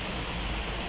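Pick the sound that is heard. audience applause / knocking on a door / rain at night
rain at night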